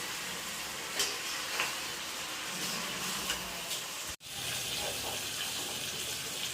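Small fish frying in a pan are gently stirred, with a steady close sizzle and hiss and a few faint scraping touches of the utensil, briefly cut off once; no talk.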